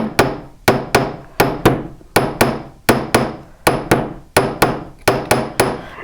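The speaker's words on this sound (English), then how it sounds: "It normally doesn't take this many taps with the hammer" Repeated sharp metallic taps from a small hammer on a metal bangle bracelet, struck in quick pairs and triplets with short ringing tails, close and loud.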